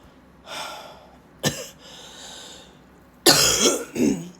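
A person coughs nearby in a few bursts: breathy, rasping coughs, the last one longest and loudest, with quiet breathing between.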